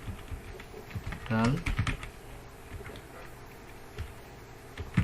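Keys clatter on a computer keyboard in short irregular bursts, close and fairly quiet, with a brief tonal sweep partway through.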